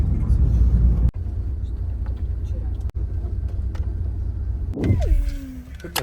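A car drives along with a steady, loud low engine and road rumble inside the cabin. Two brief dropouts break it, and a rising whine comes near the end.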